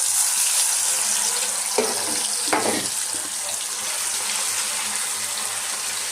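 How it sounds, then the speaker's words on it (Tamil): Stingray fish pieces slide into hot oil already used for frying fish, giving a loud, steady sizzle with two sharper bursts of crackle as pieces hit the oil. No talking. "இது வந்து நான் மீன் பொரிச்ச எண்ணெய், அதில் வந்து இந்த திருக்க மீனை போடுறேன்."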